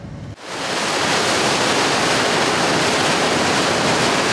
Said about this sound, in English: Here we see the dredger sucking the material off the bottom of the ocean floor, harbor floor, and bringing it into the belly of the ship